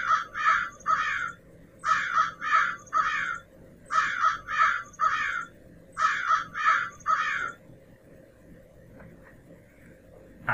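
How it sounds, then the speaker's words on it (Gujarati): A crow caws in four separate bursts, each of three or four harsh calls, loud and close, with quiet gaps between them and a faint low background hum that continues after the last burst. "કાગડો પણ આપણા ઘરઆંગણાનું પક્ષી છે, તેનો અવાજ પણ તમે રોજ સાંભળતા હશો."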